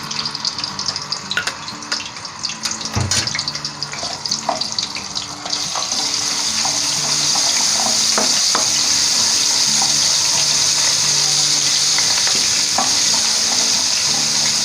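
Ginger garlic paste frying in a pan, giving a steady hiss and sizzle that swells louder and more even partway through, with occasional clinks and stirring scrapes.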